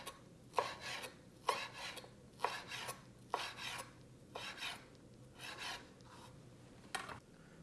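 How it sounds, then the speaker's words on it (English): A knife cuts rolled fresh basil leaves into thin strips on a cutting board, giving a quiet, even series of about eight soft rasping chops. "we're going to use our knife and just cut this into thin strips"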